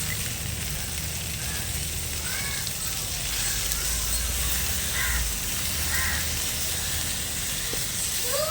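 Food frying in a pan and being turned and stirred, a steady hiss of sizzling oil running throughout, with crows cawing in the background now and then.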